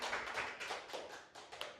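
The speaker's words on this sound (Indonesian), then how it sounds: "Oke, tepuk tangan semua." A school class applauds, a brief, faint burst of scattered hand claps from a group of pupils.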